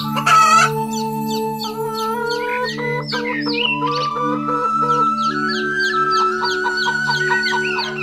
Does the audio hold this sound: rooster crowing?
yes